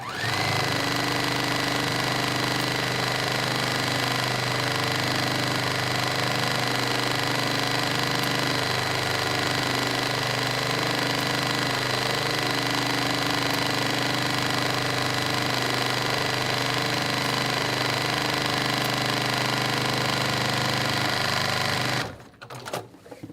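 A sewing machine stitches quilt block seams in a long, steady, loud mechanical whir with a constant rapid needle rhythm, running unbroken for over twenty seconds before stopping abruptly.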